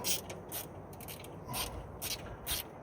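A ratcheting screwdriver clicks in a series of quick, uneven bursts of light metallic ticking, faint and close, with no talking.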